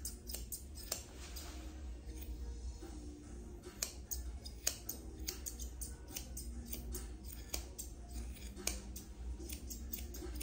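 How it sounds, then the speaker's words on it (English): Dog grooming shears, 8.5-inch Zolita Mirage, scissoring a doodle-type dog's legs short; repeated quick metallic snips with faint clicks over a steady low hum, close and moderately quiet. "Now I'm going to scissor the legs short using Zolita Mirage Shears"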